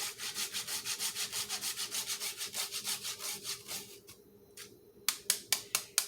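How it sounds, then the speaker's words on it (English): Nutmeg scraped on a microplane grater, a fast steady run of about twenty close rasping strokes, a brief pause, then a few sharper, louder scrapes, no talk. "we're going to take about 10 or 12 scrapes of this nutmeg on the microplane grater"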